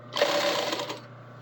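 A sewing machine stitches a straight row in one short, steady whirring run that stops abruptly, close and clear with no talk.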